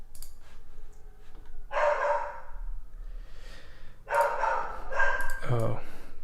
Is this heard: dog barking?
yes